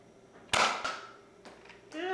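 Nerf gun fired during a playful mock battle between two men: a sharp snapping pop followed by a softer thump, then a short voice reaction, all fairly close and brief.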